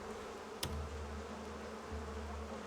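Bees buzzing in the game Crimson Desert, a faint continuous drone with a sharp click near the start and a low hum underneath, no voices.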